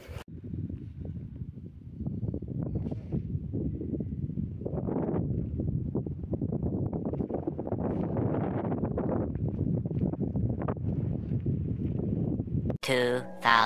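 Steady outdoor wind roars and buffets a handheld microphone for several seconds, with a brief muffled knock near the end.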